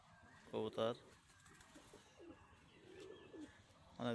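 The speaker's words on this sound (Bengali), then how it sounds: "বৃষ্টির জলে খেলা করছে কবুতরগুলো।" Pigeons playing in rainwater after rain give soft, low coos in the background, while a person speaks in short bursts at the start and end.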